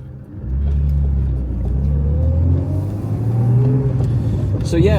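A BMW E21 with a reworked M50/M52 engine pulls away and accelerates, its engine rumbling and rising in pitch nearby at steady loudness. A voice seems to be present underneath.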